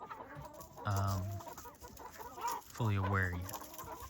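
Chickens being moved from one coop to another give two loud bursts of clucking calls, with quieter farmyard sounds and a bit of speech in between.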